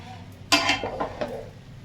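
Rice stirred in a pot with salt, sugar and butter gives a brief cluster of clattering utensil strikes and scrapes against the pot, loud and close, then fading.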